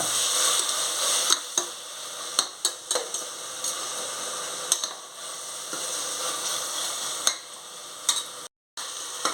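Onions and masala for homemade dum biryani fry with rock salt in a pan. Close, constant sizzling runs under repeated sharp scrapes and clicks from a stirring spoon, with no voices.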